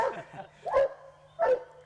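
A young hunting dog barks at a tree in a swampy hunting area, two sharp yipping barks spaced apart after a softer whine, close and fairly loud with no talking.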